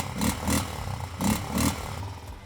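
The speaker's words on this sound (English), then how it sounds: "It's rather quiet, but when you push throttle," Engine of a cheap small ATV quad revving repeatedly as the throttle is blipped, four loud rising bursts over a steady idle, close up, no talking.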